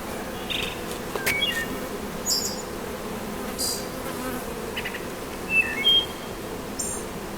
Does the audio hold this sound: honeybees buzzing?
yes